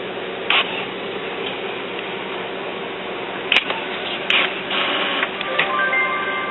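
An HP Officejet 4620 inkjet printer prints a report with a steady mechanical whir, broken by a few sharp clicks and ticks as the carriage moves, and nobody speaks.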